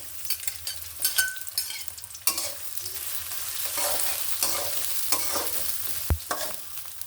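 Chopped onion, green chilli and minced garlic fry in oil in a pan, a close, steady sizzle broken by stirring scrapes and a sharp clack of the utensil near the end.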